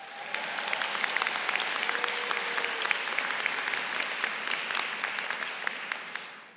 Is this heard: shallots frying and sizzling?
no